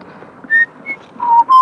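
A person whistles a few short, clear notes with brief pauses between them, close and fairly loud.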